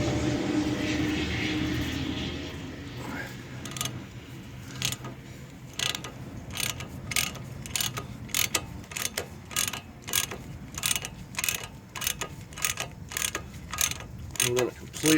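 A ratchet wrench clicks in a steady series of sharp strokes while backing off the tie rod nut underneath a 2008 car. A low rumble runs through the first few seconds.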